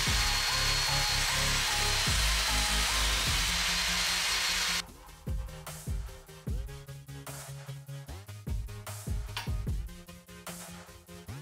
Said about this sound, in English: For bevel cross-cutting, release the bevel lock lever and choose your desired angle.